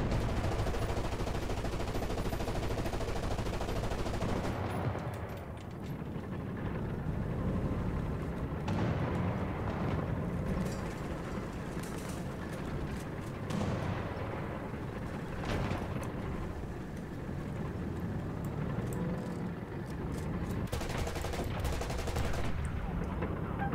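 Heavy rapid gunfire in a War Thunder tank battle, with shots aimed at an enemy tank: loud, nearly continuous bursts and rattling volleys over a steady roar lasting more than twenty seconds, with occasional faint voices.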